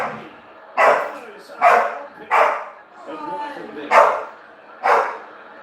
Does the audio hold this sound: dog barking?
yes